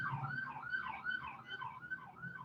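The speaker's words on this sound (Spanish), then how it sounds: "les pego un poquito lo que hace esta sirena que me distrae mucho" A siren wails outside in a rapid rising and falling cycle, fairly faint and distant, with a low rumble beneath it and no talking.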